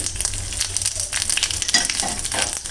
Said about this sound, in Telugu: తర్వాత కరివేపాకు, తర్వాత తిరగమాత గింజలు వేసుకుందాం.